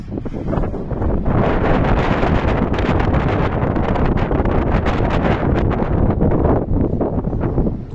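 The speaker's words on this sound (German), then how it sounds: "es wird windig draußen." Strong wind gusts outdoors ahead of a storm front, buffeting the microphone with loud, continuous roaring noise and no voices.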